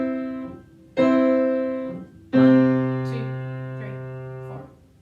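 Piano plays the closing two bars of a staccato practice piece: a few distinct notes and chords struck one at a time, each ringing clearly and fading, with a final chord held before dying away.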